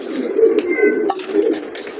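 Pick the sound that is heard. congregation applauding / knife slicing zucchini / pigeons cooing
pigeons cooing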